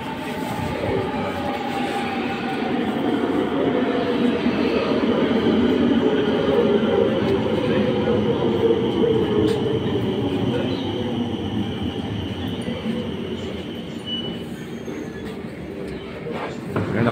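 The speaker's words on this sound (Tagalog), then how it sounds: "So, ito na, parating na yung train." Rotterdam metro train pulling into a station, a loud continuous rumble of wheels and motors building and then easing as it arrives, with faint squeal and rail clatter.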